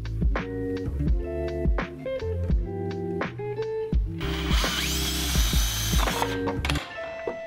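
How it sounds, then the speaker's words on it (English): A power drill with a spade bit bores into plywood in repeated short bursts, the motor whirring up and down, with a harsher grinding stretch partway through. "I'm just drilling these down a little bit with the spade bit so that my bolts sit flush."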